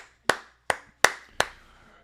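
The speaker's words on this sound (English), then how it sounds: "Let me give a nice little golf clap to the AP nerds." A slow golf clap: four single, sharp hand claps, close up and evenly spaced, alone with silence between them.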